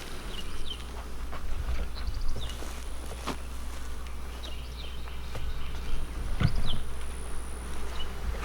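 Bees buzzing during removal of a hive from a catamaran hull, a faint scattered drone with brief passes near and far over a steady low hum.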